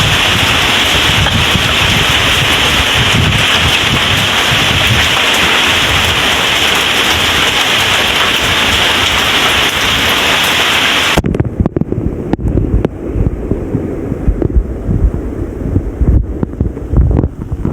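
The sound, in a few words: strong typhoon wind and rain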